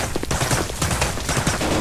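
Rapid gunfire crackles continuously in a VR shooter game, dense bursts of shots layered over a busy, noisy background, loud and steady throughout.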